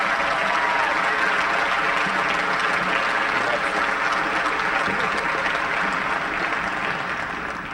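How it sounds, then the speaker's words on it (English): Loud, dense applause for the honored students at the Wadsworth High School senior academic recognition in 2001, with many hands clapping continuously and evenly throughout and only easing slightly at the close. "One more round of applause for the outstanding students at Wadsworth High School"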